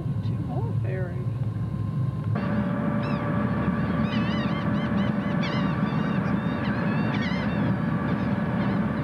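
Gulls call repeatedly on a ferry crossing near Hatteras on the North Carolina coast, with short high cries over a steady engine and water rumble while people talk.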